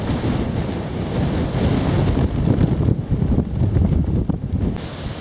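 Strong wind gusts roar and buffet across open field country on a countryside walk near Steeple Morden, continuous and loud, with no voices.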